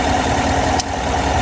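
A 2018 Chevrolet Silverado Z71 engine idles steadily, a loud, even low rumble with a constant hum and no change in pace, heard close up on its own.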